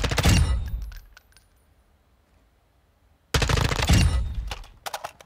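Rapid bursts of automatic rifle fire from an M4 in a Modern Warfare II DMZ match, two loud close volleys separated by a quiet gap, with trailing shell and tail sounds.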